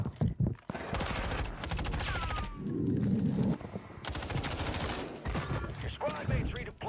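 Rapid bursts of gunfire in a Warzone-style shooter, loud and close, with a shotgun blast among dense automatic fire, brief mechanical clicks between volleys and a faint voice underneath.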